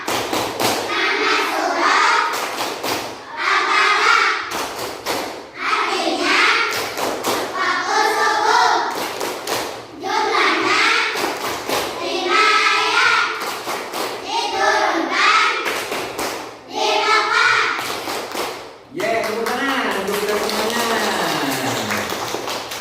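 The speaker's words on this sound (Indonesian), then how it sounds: "ayo kita tepuk Al-Falaq dulu. Tepuk Al-Falaq." Classroom of children performing the rhythmic 'Tepuk Al-Falaq' clapping chant, repeated patterned groups of sharp hand claps alternating with sung or chanted voices over about twenty seconds.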